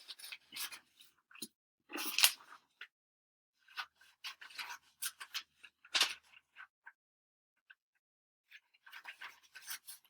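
Scissors snip through paper cards in a series of short, crisp cuts close by, arriving in irregular bursts separated by quiet gaps, with no voice heard.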